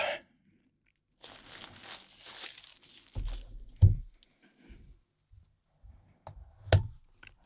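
Packaging for a thin mechanical keyboard is unwrapped, with crinkling plastic and tearing paper, then several heavier crunchy handling bumps, close and intermittent.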